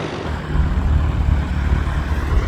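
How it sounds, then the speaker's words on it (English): Aircraft at the Wheels and Wings air show droning with a loud, low, rumbling engine noise that rises slightly and holds steady, with no talking. "A lot of plane action going on now."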